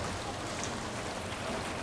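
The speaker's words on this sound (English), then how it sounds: "It's getting a little hard to talk right now because the hail's hitting so hard here in the building" Large hail pounding on a television studio building in Eddy, Texas, during a severe storm outbreak, a dense, continuous drumming roar with no breaks, loud and close, with no voices heard.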